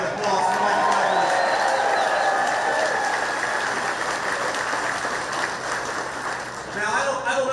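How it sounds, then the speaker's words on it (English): A political rally crowd breaks into sustained applause and cheering, a dense wash of clapping that fills the space and holds steady for several seconds, with a voice coming in at the end. "let's give a round of applause for Mike Rogers"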